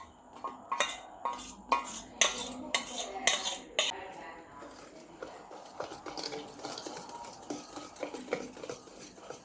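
A spoon stirs melted butter and chocolate into fudgy brownie batter in a bowl, with a run of sharp rhythmic clinks against the bowl at first, then softer, steadier scraping and sloshing, close and fairly quiet.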